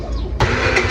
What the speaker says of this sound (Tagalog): Ang tahimik pa ang makina kaya.